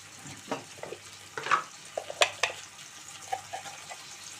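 Chopped onions and tomato frying in a pan for a macaroni pasta, with soft sizzling under intermittent stirring and scraping clatters, quiet and close.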